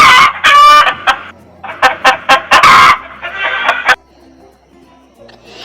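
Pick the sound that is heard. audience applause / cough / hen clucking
hen clucking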